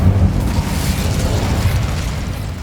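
The Incendio fire spell in Hogwarts Legacy bursts out as a loud, dense whooshing blast of flame that fills the whole moment with a low roar and no talking.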